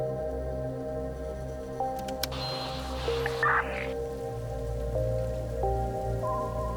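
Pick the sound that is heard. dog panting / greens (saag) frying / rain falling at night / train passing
rain falling at night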